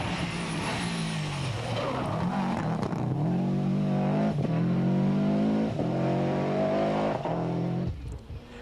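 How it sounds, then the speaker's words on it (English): Subaru Impreza rally car engine at the 1995 Ulster Rally, suffering gear selection problems, loud and close, with a steady high drone that rises and falls through several throttle changes before cutting off near the end. "Bertie, in fact, is having a major panic as his Impreza has lost 10 seconds with gear selection problems."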